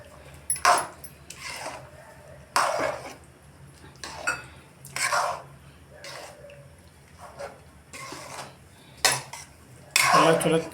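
Mixed vegetables for baji are stirred in a pan, with a metal spoon scraping and clattering against it in short bursts every second or two, close and fairly loud, and a voice talking faintly between the strokes.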